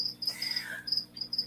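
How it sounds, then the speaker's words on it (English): Pet crickets chirp in steady pulsing trills, fairly close and clear, with a brief pause in the middle and no talking. "You're going to hear crickets in the background as I have some for some of my pets."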